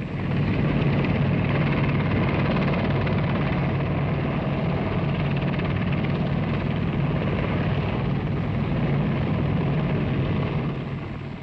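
A helicopter flies steadily with a loud, continuous rotor and engine roar, holding constant for about eleven seconds before easing slightly at the end, with no talking.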